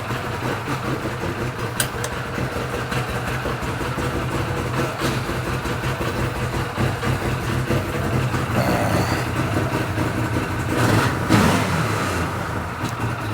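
A 2014 Arctic Cat Wildcat 1000X side-by-side, running rich after intake and injector cleaning, idles steadily while warming up, a close continuous low engine rumble with a brief swell near the end.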